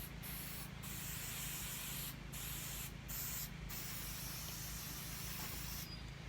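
Permethrin sprayed onto clothing comes through as a quiet, steady hiss with several short breaks where the spray stops and starts, over a low background hum.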